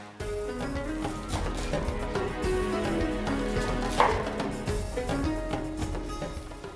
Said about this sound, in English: Roughly chop 150 grams fenugreek.